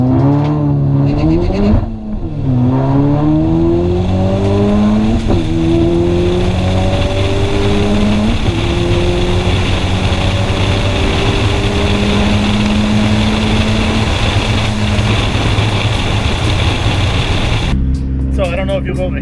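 A Honda Space Coupe with an F22B1 engine launches hard in first gear at a track, with a slight wheel hop. The engine climbs loudly and repeatedly in pitch through several upshifts, a sustained, close, rising roar for nearly twenty seconds before cutting off.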